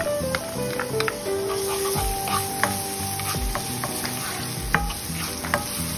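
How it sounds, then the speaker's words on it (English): Chopped garlic sautéing in oil in a pan over low to medium heat, with a constant close sizzle and repeated light clinks and scrapes from stirring. "we are going to saute the chopped garlic into low to medium heated pan"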